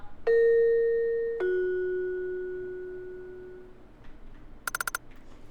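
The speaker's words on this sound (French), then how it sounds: "C'est la sonnette." A two-tone ding-dong doorbell in a horror video game rings clearly in a quiet room, the second tone lower and fading slowly, followed by a few soft clicks and a brief buzzing burst.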